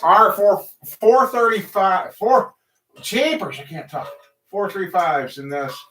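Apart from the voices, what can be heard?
No distinct noise like a dog, phone or traffic.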